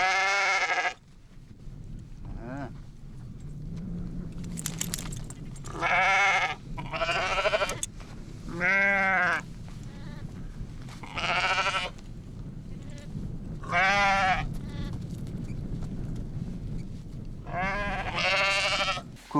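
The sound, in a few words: newborn lamb and sheep bleating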